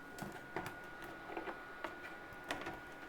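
A Pirate3D Buccaneer 3D printer, a failed Kickstarter machine, runs its Z-axis with soft, irregular mechanical ticks and clicks roughly every half second, faint and close against a quiet room hum with no talking.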